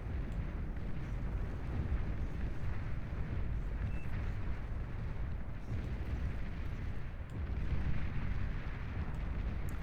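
Pit Bull defensive units firing in the real-time strategy game Beyond All Reason, a steady, dense roar of rumbling explosions and blasts that runs the whole time without pause, loud and fairly even.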